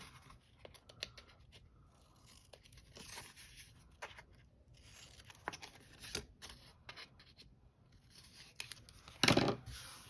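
Scissors trim the corners of paper pages for a mini album made from North Pole sacks, giving soft snips and paper rustles close by, with one sharper crisp cut near the end.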